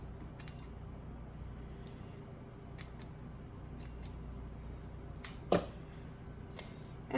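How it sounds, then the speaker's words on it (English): Scissors snip rosemary sprigs down to fit a small jelly jar, a few quiet, sharp clicks spread through near-silence with one louder cut. "I just kind of snip her up so she fits in there"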